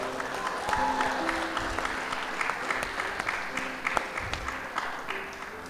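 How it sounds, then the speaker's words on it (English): A church audience at a Christmas cantata applauds, steady dense clapping from a large crowd in a reverberant hall, with some voices mixed in. "Let's give them a round of applause one more time."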